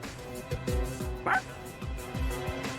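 A dog barks in Persona 3 Reload: several short, punchy woofs in a steady rhythm over game music and ambience, with one sharper yelp-like cry midway.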